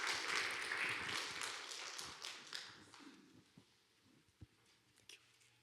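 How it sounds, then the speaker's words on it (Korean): A church congregation applauds to welcome the pastor, fairly quiet and diffuse at first, then fading to a few scattered claps and small knocks. "우리 감사의 뜻으로 우리 박수 한번 해주시기를 바랍니다"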